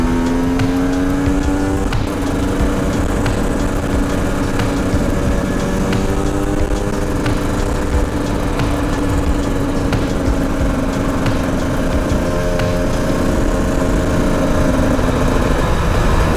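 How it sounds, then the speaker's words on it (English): A modern two-stroke dual sport motorcycle cruises on the street in sixth gear, holding a steady, buzzing engine drone close to the microphone with slight pitch drifts under constant wind rush. "So let's get this thing up into 6 gear and see what it feels like to cruise."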